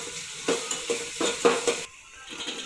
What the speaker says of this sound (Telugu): ఆయిల్ హీట్ అయిన తర్వాత ఆనియన్స్ వేసుకోవాలి, రోస్ట్ చేసుకోవాలి గోల్డెన్ కలర్ వచ్చేంత వరకు.